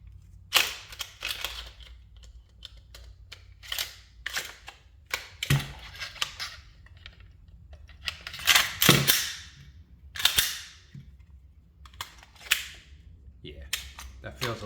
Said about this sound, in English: Slide back on.